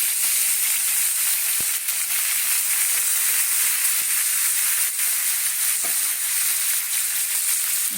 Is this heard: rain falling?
no